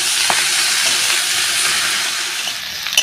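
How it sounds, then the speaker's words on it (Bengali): Eggplant added to potatoes being fried in oil in a pan, Bengali home cooking: a constant close sizzle with occasional stirring clatters and a sharp knock near the end, no talking. "এবার বেগুনটা আমি দিয়ে দিচ্ছি। বেগুনটাও একটুখানি কষিয়ে নেব এর সঙ্গে।"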